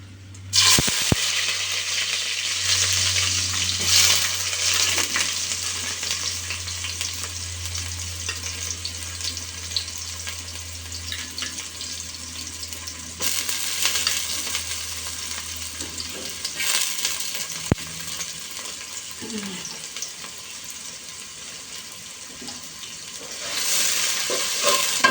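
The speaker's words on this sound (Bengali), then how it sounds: "পেঁয়াজটা একটু ভেজে নেব" Chopped onion frying with cumin seeds in a pan for khichuri, a continuous close sizzle with intermittent stirring and scraping, louder at the start and end, no talking.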